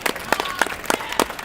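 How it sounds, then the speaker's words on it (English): An audience at a LEGO building competition gives a short burst of scattered clapping, with several distinct claps over about a second and a half. "let's get a round of applause for both of our builders."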